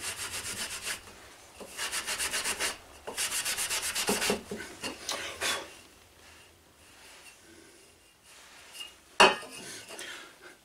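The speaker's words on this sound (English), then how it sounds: "Gonna do some more buffing with the Go-X." Scrubbing strokes buff a rusted surface with Go-X, coming in bursts of close, gritty rubbing. The bursts fade toward quieter handling and end in a single sharp knock.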